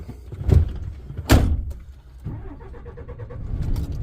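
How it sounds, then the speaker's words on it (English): An HGV Class 1 articulated truck with air suspension creeps forward about a foot to uncouple its trailer at the fifth wheel, with two sharp clunks followed by a low idling engine rumble nearby. "first thing we're going to do is going to pull forward about a foot, and that's just to disconnect the pin on the fifth wheel"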